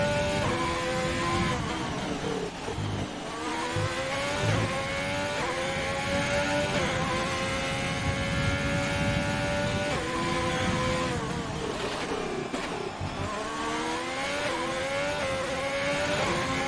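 F1 race car engine on a timed lap in a racing video game, high-pitched and screaming, rising through the revs with repeated quick downshifts and upshifts, loud and continuous with no talk.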